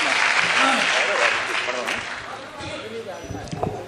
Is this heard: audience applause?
yes